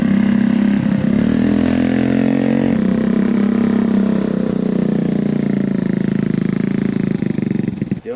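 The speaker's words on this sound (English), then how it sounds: "But Ryan is gonna take the Ruckus for a little run just to see if there's anything that he noticed." A Honda Ruckus scooter with a 171cc big-bore engine rides at high revs, its loud, buzzy engine note droning continuously and rising in pitch as the throttle opens, with no pauses.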